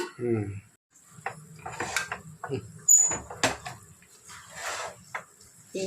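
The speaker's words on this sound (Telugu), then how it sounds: "స్టీల్ కళాయి జరిగిపోతూ ఉంటుంది" A steel kadai pan slides and clatters on a home kitchen stove while chicken fries, giving sharp metallic knocks and scrapes at irregular intervals, with someone speaking intermittently.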